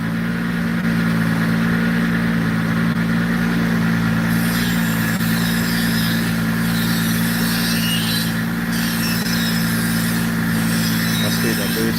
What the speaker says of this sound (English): Sounds so good on the dyno.